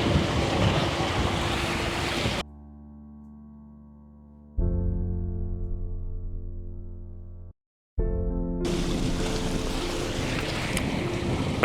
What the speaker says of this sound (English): we've got 22 knots of wind, we're going along at 7 knots